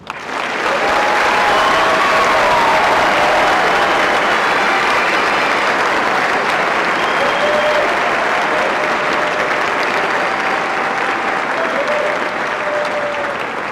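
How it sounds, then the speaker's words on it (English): Sustained applause from a crowd honoring the graduates of a military platoon at a graduation ceremony, steady and loud across the whole stretch with no speech over it. "Please join in a round of applause for the graduates of First Platoon."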